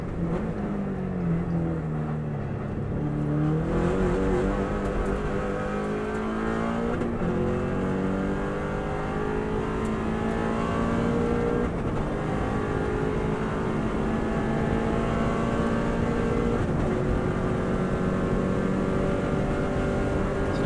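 A Subaru WRX STI runs flat out on the Isle of Man TT course, its engine loud and close, climbing in pitch through the gears, with brief drops at each shift before rising again.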